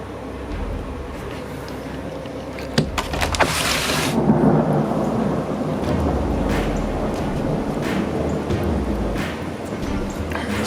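Thunder rumbles through a severe thunderstorm in Guilford County, a deep rolling boom swelling over steady rain hiss, with a sharper crack near the start and a continuous wash of rainfall throughout.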